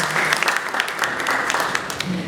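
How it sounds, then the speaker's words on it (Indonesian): Audience at a Sorot News Golden Award ceremony gives a lively round of applause, with dense clapping sustained for the whole stretch and a faint voice underneath. "Hadirin kita berikan tepuk tangan sekali lagi yang meriah."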